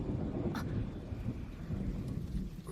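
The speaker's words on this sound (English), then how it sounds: "Rain?" Rain falls steadily in a post-apocalyptic anime scene, a dense low hiss and patter that carries through without a break, with a soft rumble under it.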